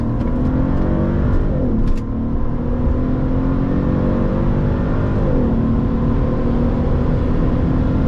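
A 2012 Mercedes SL500 accelerates hard on a highway from 100 to 200 km/h, its engine a loud, steady roar rising in pitch with a brief dip at a gear change and another shift later, with wind noise throughout.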